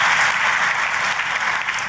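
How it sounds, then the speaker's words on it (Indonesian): A church congregation clapping for God during a sermon, dense sustained applause from a large crowd throughout. "Tepuk tangannya pula yang paling meriah buat Tuhan kita."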